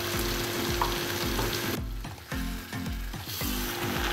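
Mixed vegetables with capsicum stirred in a hot pan, a loud continuous sizzle broken by rhythmic scraping strokes of the spoon, briefly dipping quieter midway before resuming close up.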